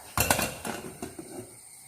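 A metal lid set onto a pot of pumpkin curry, giving a couple of clattering knocks followed by a few lighter rattles as it settles.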